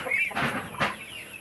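Short, close clucks from roosters on a livestock farm, two quick bursts over a quiet background.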